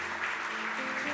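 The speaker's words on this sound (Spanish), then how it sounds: "Denle un fuerte aplauso al Señor," Church congregation breaks into a steady wash of applause for the Lord during a sermon, a dense, continuous patter of many hands, moderately soft and roomy, with no speech over it.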